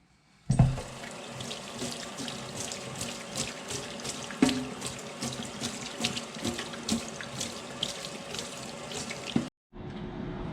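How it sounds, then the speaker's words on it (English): A tap runs steadily into a sink, a continuous splashing rush of water, close and even, with a few knocks and clatters as the sink is rinsed clean, then a sudden stop near the end. "Make sure you clean the sink really good."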